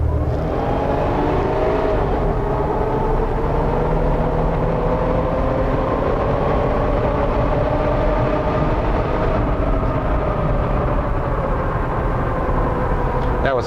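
A supercharged Jeep Wrangler JK accelerates hard on kickdown, its engine and supercharger whine rising steadily in pitch under a loud, continuous roar with road noise, heard from inside the cab with no talk.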